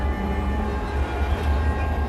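Number 10 trolleybus running, a steady loud low rumble and hum of the vehicle in motion, continuous throughout with no speech.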